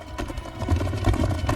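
Horses galloping across open ground, their hoofbeats landing in a rapid, loud, close rhythm.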